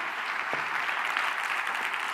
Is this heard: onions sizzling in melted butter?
no